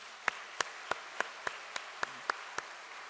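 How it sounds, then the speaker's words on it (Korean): Slow, evenly spaced claps, about nine in three seconds, sound faint and sparse at a church welcome gathering honoring the staff, with no talk over them. "우리 전심원의 임직원분들께 감사의 박수를 보내십시다"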